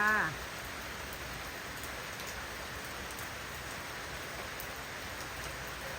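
Steady rain falls continuously at a home in Thailand, a dense even hiss of drops with no voices.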